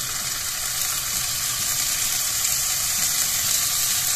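Fagottini sizzle while frying in a hot pan, a loud, close, constant crackling hiss that holds steady throughout without talking.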